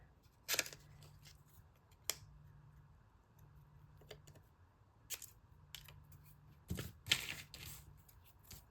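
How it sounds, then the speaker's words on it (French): Sparse, quiet snips of scissors cutting paper, a few crisp clicks spaced irregularly over near-silence, with a couple of quick cuts close together. "Peut-être que je pourrais les faire avec les ciseaux."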